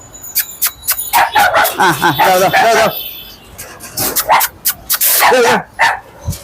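Several Indian spitz dogs bark and yip in quick, loud bursts close by, with whimpering between barks and some human talk mixed in.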